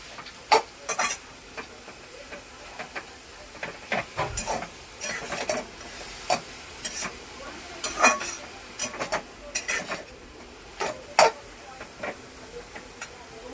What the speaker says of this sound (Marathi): ही 2 मिनिटं अशी 2 मिनिटं हलवून घ्यायची आहे.